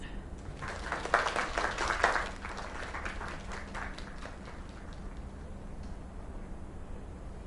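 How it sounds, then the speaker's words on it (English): A burst of clapping and applause in a video game rises briefly then fades into a softer scattered patter, moderately distant, with faint background murmur. "Another round of applause."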